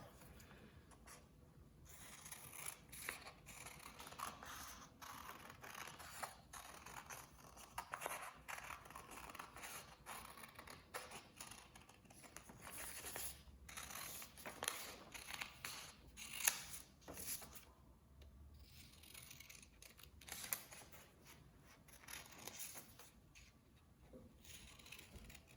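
Scissors snip through paper while cutting out a hand-drawn fish shape, a faint, close series of irregular crisp cuts and rustles with short pauses between them.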